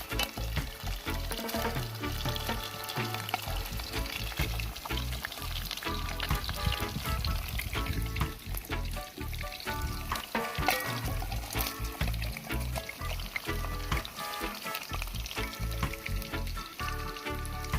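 Fish frying in a pot of oil over a Caribbean-style outdoor cook, a loud continuous crackling sizzle with dense popping and occasional stirring clatter throughout, close up.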